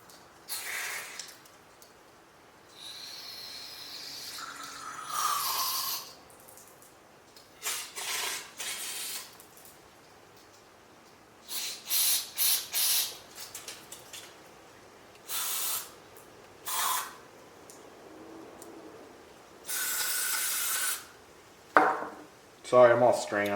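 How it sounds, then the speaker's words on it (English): Carb cleaner is sprayed on the carburetor of an old Ferris 61-inch riding mower in repeated hissing bursts, some short and some held for a second or two, with clanks and handling noises between them. "So we'll spray this carb down, clear it out"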